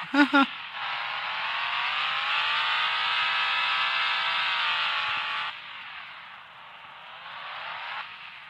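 A stock off-road truck engine in the Offroad Outlaws video game drones loudly and steadily in second gear while crawling, with a rising and then easing tone, after a short burst of speech at the start.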